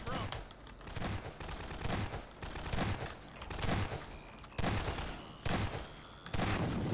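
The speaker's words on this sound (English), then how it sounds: "Two of the turrets blew up!" Turrets exploding amid a chaotic firefight in Half-Life 2: Episode Two, dense continuous gunfire and bursts throughout, with speech mixed in.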